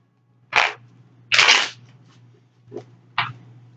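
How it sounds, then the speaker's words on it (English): Tarot cards are shuffled by hand in four short riffling bursts, close and crisp, separated by brief pauses over a faint low hum. "let's do 3 shuffles for Capricorn"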